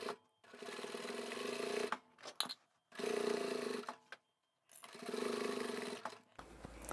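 A sewing machine stitches the outer fabric of a large DIY duffle bag in three sustained bursts of even, rapid mechanical whirring, with short pauses between runs and no voices.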